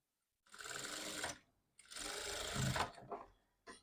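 A sewing machine stitches the edge joint of a puff sleeve in two longer bursts and a couple of short ones, a close, buzzing mechanical run separated by brief pauses, with no talk.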